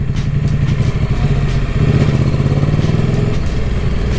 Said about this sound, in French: Donc la moto tourne bien